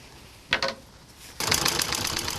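A grandmother's sewing machine, originally her husband's, gives one short whirring burst, then after a pause runs continuously with a fast rhythmic stitching clatter.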